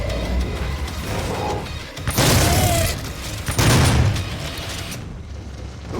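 Grenade explosions in the video game Doom (2016): two loud, heavy booming blasts come a couple of seconds apart over continuous game noise, and each one rumbles briefly before fading.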